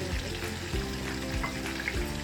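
Onions fry in a pan for Punjabi-style lentils, producing a constant close sizzle with a low humming tone running underneath.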